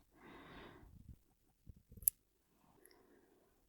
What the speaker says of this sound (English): That is the opening of the scissors. That's the closing